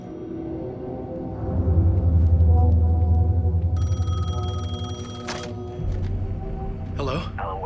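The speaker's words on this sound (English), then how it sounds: "The payphone was ringing." In Alan Wake II, a payphone rings with a bright electronic bell, repeating in bursts over a low rumbling ambience, with a voice speaking nearby.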